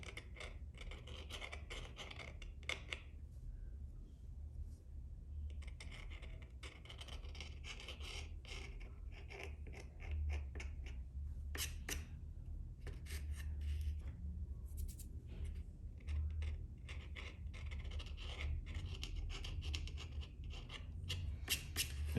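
A knife blade scrapes lightly across the wall of an HO scale model building, giving a steady stream of soft, dry rasping strokes close up, with brief pauses between passes over a low background hum.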